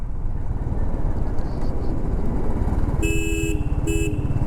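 Car horn sounding twice in short blasts on a quiet forest road during a motorcycle ride from Hampi to Goa, with steady engine and wind rumble throughout and passing vehicles approaching.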